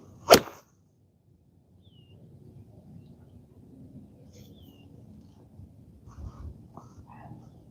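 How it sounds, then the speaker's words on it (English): A single crisp, sharp strike of a square golf club face hitting a ball on a driving range, followed by quiet, faint rustling background. "Can you guys hear the crispy sound of the square club face?"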